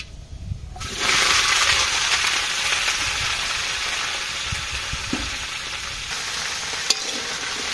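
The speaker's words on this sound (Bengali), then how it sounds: "নিরামিষ তরকারি রান্না করবো 5 ফোড়নের সম্বার দিয়ে" Five-spice tempering hits hot oil for a village-style vegetable curry, bursting into a loud, steady close sizzle after a brief quiet moment and frying on continuously, with a faint clatter and no speech.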